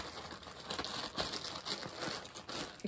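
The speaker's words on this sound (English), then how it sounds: "Excuse my plastic shuffling noises" A plastic bag holding yarn rustles and crinkles close up in a quick, irregular series of crackly handling sounds lasting a few seconds.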